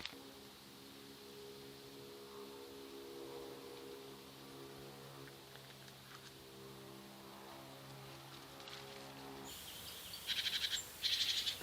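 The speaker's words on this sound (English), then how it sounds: "The sound of the birds in the garden is recorded clearly." Faint birdsong chirps in a garden over a low steady hum, recorded by a Campark TC21 solar trail camera, with a burst of quick, bright twittering near the end.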